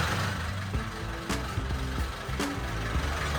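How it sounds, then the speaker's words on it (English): Boat engine on a canal at a Bangkok floating market, a steady low, throbbing rumble running close by throughout, with two sharp knocks standing out over the drone. "We're starting the boat soon."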